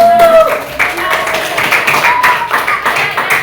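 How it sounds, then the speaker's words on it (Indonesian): Students in a classroom clap their hands in an uneven burst of taps and claps, fairly close, with voices chattering over the clapping. "Ya, oke, tepuk tangan."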